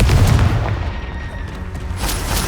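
The Confringo fire spell explodes in Hogwarts Legacy with a deep, loud boom at the start, followed by rumbling blast noise and another burst near the end.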